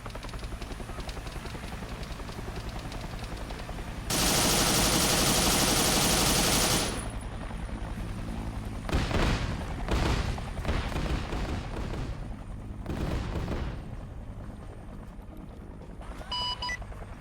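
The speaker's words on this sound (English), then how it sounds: "I'm sure you saw the explosions." Arma 3 Vietnam combat fills the air with a helicopter's steady rotor drone, a sustained burst of loud machine-gun fire, then several heavy explosions and rattling gunfire volleys that fade toward the end.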